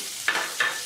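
Chopped onion, green and red chillies and a bay leaf fry in a pan, with two quick stirring scrapes over a soft, steady sizzle.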